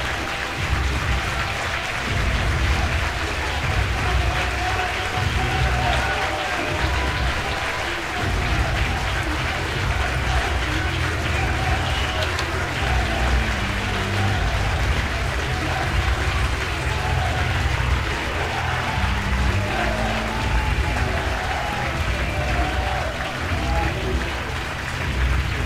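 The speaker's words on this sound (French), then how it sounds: "Veuillez accueillir notre lauréat du prix Röpke 2025 avec de grands, forts et chaleureux applaudissements." Sustained, dense clapping from a large award-ceremony audience in Zurich, loud and continuous throughout with no pauses, a broad roar of hands.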